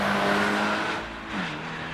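A 2025 Toyota GR86 Hakone Edition engine droning steadily at moderate revs, a sustained hum that dips in pitch as the car shifts or eases off, heard close and alone.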